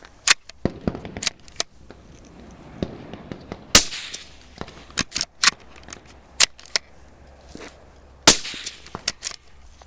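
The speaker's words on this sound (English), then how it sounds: "let's go live, cook off a few rounds, and see what the baseline should sound like" Sharp, sparse shots from a suppressed PTR Spiritus rifle fire one at a time at irregular intervals, each a short loud crack with a quick decay, separated by quiet pauses.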